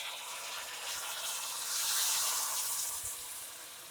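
A steady stream of water pours continuously, a bright hissing gush that swells slightly in the middle before easing, with no voices.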